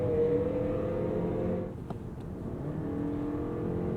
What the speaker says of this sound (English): That rattly little Atkinson inline four.